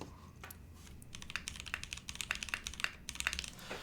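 Typing on a SingaKBD x Monokei Jaguar V2 keyboard fitted with PBT keycaps, a steady run of close, crisp keystroke clacks that pick up pace after a quiet start, with no voices.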